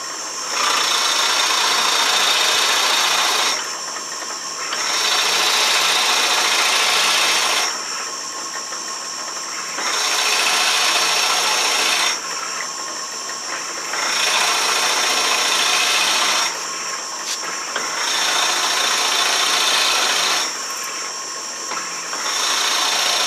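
A Shopsmith saw cuts a board on a crosscut sled. The loud, steady whine comes in repeated passes of about three seconds each, separated by short drops to a quieter running hum.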